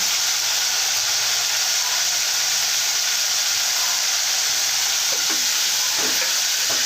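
Chopped tomatoes with turmeric fry in a pan with a steady, loud sizzling hiss throughout, with a few soft stirring scrapes near the end and no voices.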